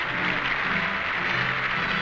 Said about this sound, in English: Stalin and company applaud the Latvian communist delegates.